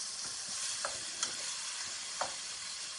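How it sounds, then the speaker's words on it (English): One pound of ground beef browns in a pan, producing a quiet, steady sizzle with a few light taps from a utensil. "But we're just going to get this nice and browned up. This was 1 pound of beef, ground beef."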